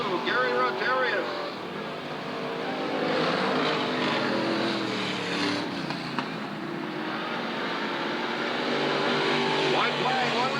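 Race cars dueling for the lead on a slick dirt oval at Southern Oregon Speedway, engines roaring continuously as they run in a pack, with a track announcer talking over the din.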